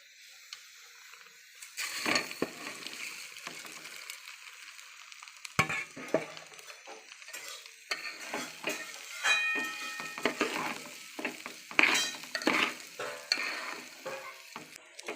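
Rice for basanti pulao is stirred in a hot pan with a spatula, giving repeated scraping sweeps and crackling sizzle in uneven bursts, close and fairly soft.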